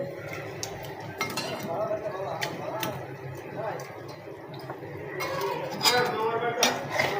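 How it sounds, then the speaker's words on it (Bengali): A utensil scrapes and clinks against a pan while fish curry is stirred, giving irregular close metallic taps and scrapes mixed with a person talking throughout. "এখন আমি দেখেন সুন্দর করে আড়াচড়া করতেছি"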